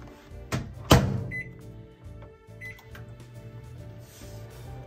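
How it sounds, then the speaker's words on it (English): A microwave oven hums steadily while melting chocolate in a home kitchen, its low drone continuous after a couple of sharp clicks and a thud as the door closes and it starts. "we are going to melt this in the microwave."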